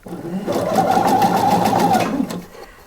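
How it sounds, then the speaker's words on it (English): A sewing machine runs in one steady burst of close, whirring stitches along a blouse sleeve seam, starting up quickly, holding an even speed for about two seconds, then winding down. "Stitching first to the right side of my sleeve, so right sides together"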